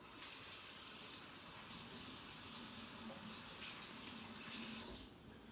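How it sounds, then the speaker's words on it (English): Tap water runs steadily into a sink as hands are rinsed in a kitchen, a constant close hiss and splash with slight swells near the end. "after I wash my hand off again"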